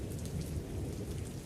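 Steady rain and a rumbling thunderstorm used as an audiobook sound effect, a dense continuous wash of heavy rainfall with low thunder rolling underneath, loud and unbroken throughout.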